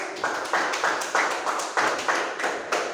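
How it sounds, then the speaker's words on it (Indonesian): A group of people clapping for a presenting team in a classroom, with about eight loud, regular bursts of applause close by and a faint voice underneath. "beri tepuk tangan untuk kelompok 1"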